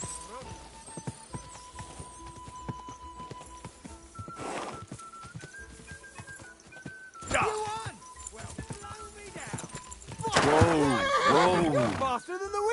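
A horse in the video game Kingdom Come: Deliverance 2 whinnies loudly several times during a race, the last a long shrill neigh, while hooves clop underneath and a voice speaks intermittently.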